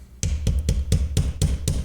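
A hammer taps a part into the bolt of a Rossi R92 rifle, striking eight sharp, close metallic blows at an even, brisk pace with no talking.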